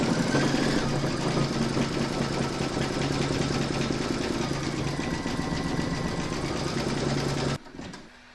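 A home embroidery machine stitches a satin-stitch border around a shark bookmark, a fast, steady mechanical rattle with a low hum, close and continuous for about seven seconds before it stops abruptly.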